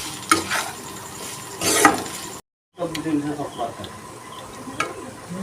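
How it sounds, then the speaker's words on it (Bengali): Ridge gourd peel fried with turmeric, salt and sugar is stirred in a pan: a soft sizzle under bursts of scraping and rattling strokes, close up, with a brief silent gap midway. "ভালো করে আবার নাড়তে থাকবো"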